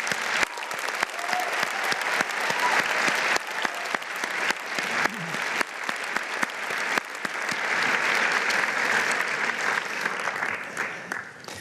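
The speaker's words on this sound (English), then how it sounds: "I think they deserve a round of applause." A large audience at a scholar awards ceremony applauds steadily for honored students, a long continuous roar of many hands clapping, with scattered sharp individual claps standing out and the volume swelling again toward the end.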